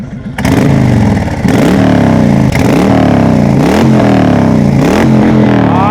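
A Honda Fury chopper motorcycle fitted with a Cobra exhaust revs hard and close, loud, deep blips rising and falling several times over a rumbling idle, with no talk.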